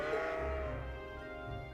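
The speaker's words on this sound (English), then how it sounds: "Are those sheep?" A sheep bleats in the video game Trails of Cold Steel, a single drawn-out wavering call that is fairly faint over a steady ambient background.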